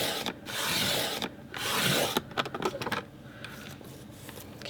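A paper trimmer blade slices through a sheet being cut into four half-inch strips, two long rasping strokes followed by short scraping clicks, close and fairly quiet with no talk.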